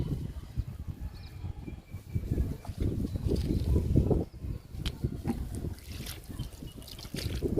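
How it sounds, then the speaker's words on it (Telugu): Water is poured into buckets of soil outdoors while preparing to sow tree bean seeds, giving a steady trickling splash with low rumbling noise beneath. "ఇప్పుడు కొంచెం వాటర్ పోద్దాము"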